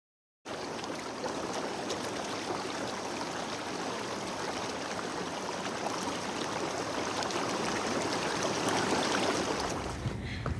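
Water from a drained inflatable hot tub pours steadily out of a garden hose fed by a submersible pump, a continuous broadband gush that starts abruptly and holds at an even level for about ten seconds.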